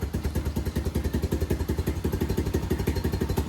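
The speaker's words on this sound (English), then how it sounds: "So I'll just start it up and then just let it run for a little while" A small pit bike engine runs close by, a steady rapid thumping putter with a rough, clattery idle and no talking.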